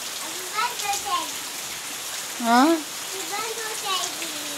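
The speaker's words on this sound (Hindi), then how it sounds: "बारिश तो नहीं बंद हो रही" Steady rain falls outdoors as an even, close hiss, while a child and an adult exchange a few short words over it.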